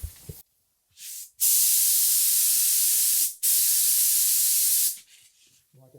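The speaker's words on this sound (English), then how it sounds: "If I just keep spraying out here, I'm just wasting paint out in the middle of the air." Several bursts of loud hissing spray from a paint gun painting a drum smoker, a short one followed by two long sustained blasts, close by.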